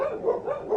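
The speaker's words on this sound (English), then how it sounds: "Now there's dogs." Dogs bark in a quick run of short, close barks and yips, fairly loud and with no talking over them.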